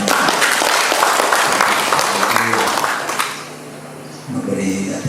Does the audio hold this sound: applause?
yes